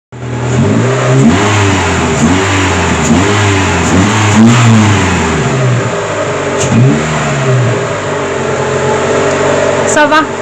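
Renault Mégane MK1 engine fitted with a Devil 102 sport duplex exhaust, revving repeatedly in loud surging blips close by, then settling toward a steadier drone, with voices talking over it.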